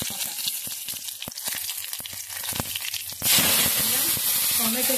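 Cumin seeds and a bay leaf sizzle in hot oil, a crackling hiss with scattered pops that suddenly swells louder and brighter partway through, close and steady.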